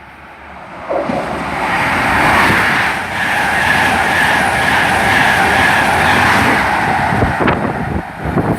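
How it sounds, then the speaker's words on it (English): A cross-country HST high-speed train on a Leeds to Paignton service roars past Highbridge and Burnham station, a loud sustained rush of wheels and engine noise with rail clatter near the end. "passing now through Highbridge and Burnham is a service from Leeds to Paignton across country HST"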